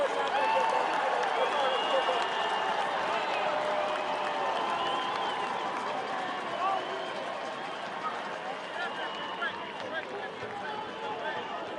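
The crowd at a high school state championship football game roars in a sustained, even wall of cheering and clapping that tapers slightly toward the end, with voices blended throughout.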